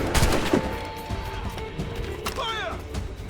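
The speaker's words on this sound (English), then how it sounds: "They're shooting back!" Gunfire in the Assassin's Creed Rogue video game: sharp, loud shots crack early, followed by scattered blasts and a metallic ringing, with shouting game voices in the mix.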